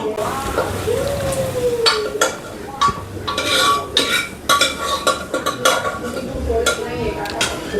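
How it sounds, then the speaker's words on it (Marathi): A spoon clatters and scrapes against a metal pot while mutton masala sizzles in oil, with irregular knocks and stirring scrapes over a steady frying hiss, close and fairly loud. "मसाला चांगला तेल सुटेपर्यंत परतून घ्यायचा आहे आणि मग त्याच्यामध्ये मटण टाकायचं"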